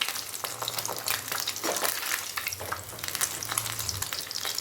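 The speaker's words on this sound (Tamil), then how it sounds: "பரட்டி பரட்டி விட்டு எல்லா பக்கமும் சுற்றிலும் கோல்டன் கலர் வர்ற அளவுக்கு பொரிச்சு எடுத்துக்கலாம்" Prawn balls deep-fry in hot oil, a dense, continuous crackling sizzle with bursts of spitting, close and steady throughout, with faint stirring underneath.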